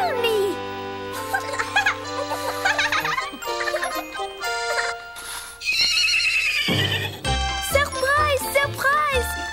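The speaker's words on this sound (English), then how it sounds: "We have brought this lovely horse just for you" A horse whinnies loudly in an animated children's birthday scene set in London, mixed with jingling bells, clip-clop hooves and bright cartoon music, with voices calling out around it.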